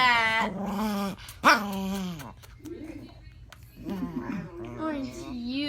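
A small female dog growls and whines in drawn-out, voice-like bursts, close to the microphone, while someone talks over it in a soothing, baby-talk tone.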